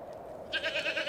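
A goat bleats in a short wavering burst in the second half, fairly close and clear, with a steady low hum running underneath.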